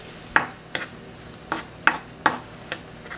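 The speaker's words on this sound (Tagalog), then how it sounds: "Halo lang natin hanggang maging fragrant na ang ating bawang" Garlic sautéing for an empanada filling, stirred with a spoon in a pan: six or seven evenly spaced scrapes over a soft, steady sizzle, close and without voices.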